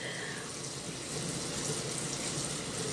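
Water running from a kitchen tap in a home kitchen while collard greens are being cooked, a steady broadband hiss and splash that holds evenly and fairly close throughout, with no talking.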